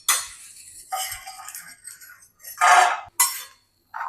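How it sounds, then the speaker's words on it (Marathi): Roasted peanuts tip from a pan onto a plate with several bright clinks and scraping rattles in short bursts, close and fairly loud, with no talking. "आता आपण हे शेंगदाणे प्लेट मध्ये काढून घेऊ।"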